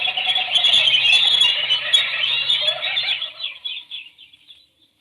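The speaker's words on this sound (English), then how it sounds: "The birds." A flock of birds squeals and shrieks loudly as a radio drama sound effect, a dense, high chattering that thins out and fades away to silence, with no talk over it.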